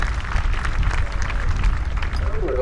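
A crowd applauds at a heavyweight horse pull in Hamburg, NY, for a teamster and his horse team, Jake and Red: a steady wash of clapping throughout, with a voice briefly audible over it.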